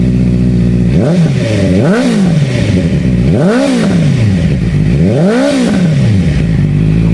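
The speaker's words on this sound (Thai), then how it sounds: "มาฟังเสียงท่อนิดนึงนะครับผมเดี๋ยวขออนุญาตเปิดเครื่องครับ" A 2017 Honda CB650F motorcycle engine idles loudly, then revs up three times in rising and falling surges, its exhaust rumbling throughout, close by.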